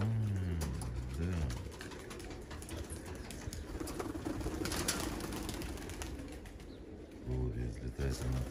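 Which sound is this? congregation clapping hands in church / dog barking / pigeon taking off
pigeon taking off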